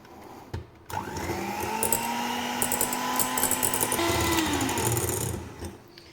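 An electric mixer whips cream for a Kinder Delice cake, starting with a click and then running as a steady, whining motor drone for several seconds before stopping.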